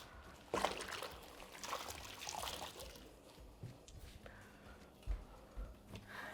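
Kitchen tap water runs steadily during a rinse, a broad close wash of flowing, splashing water with a few louder splashes and clunks near the start and end.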